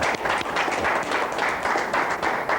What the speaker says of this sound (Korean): 여러분들 박수 한번 쳐주시죠.